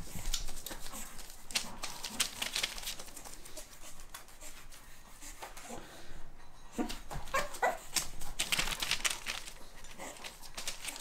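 A pug barks and whimpers at a door indoors, a run of yips and whines that rise and fall in bursts, fairly close, with faint voices now and then.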